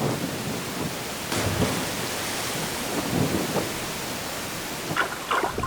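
A Jeju Island waterfall, where a stream meets the sea, pours into the freshwater pool beneath it in a loud, steady, broadband roar with occasional splashing surges and no voices.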